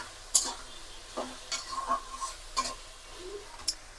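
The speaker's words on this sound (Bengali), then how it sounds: "এই দেখেন সবজিটা তেলে ভেজে নিতেছি ভালো করে" Vegetables for pulao fry in hot oil with a soft background sizzle, punctuated by intermittent scrapes and taps of a spatula stirring against the pan, close and fairly quiet.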